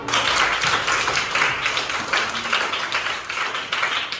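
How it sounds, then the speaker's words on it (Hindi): Children in a school setting clap for themselves in a dense, steady burst of many small hands, loud and close, with a few voices mixed in throughout. "सब अपने लिए तालियां बजाओ।"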